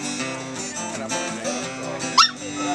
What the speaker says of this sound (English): that's my dog Lou in the background